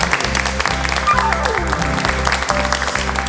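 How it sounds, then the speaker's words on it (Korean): Audience applause at a Korean occupational safety event on emotional labor, steady clapping over a loud rhythmic music backing track with low bass pulses throughout. "다시 한번 큰 박수 부탁드리겠습니다."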